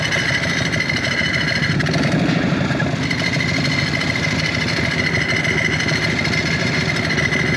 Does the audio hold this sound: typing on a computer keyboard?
no